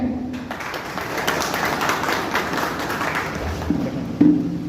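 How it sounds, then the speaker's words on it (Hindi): An audience at a health product program claps for itself, a loud mass of scattered clapping rising and sustaining over a few seconds, with a brief tone at the start and near the end and a louder thump near the close. "आप सभी लोग अपने लिए जोरदार तालियां बजाएं"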